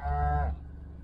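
A cow lets out a deep, sustained moo close by on a farm, lasting about half a second before fading into quiet outdoor background.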